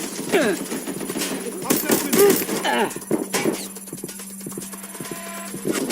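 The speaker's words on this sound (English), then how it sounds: "Providing suppressor fire!" Bursts of gunfire from the video game Watch Dogs Legion, with sharp repeated shots in short clusters, followed by steadier background game sound.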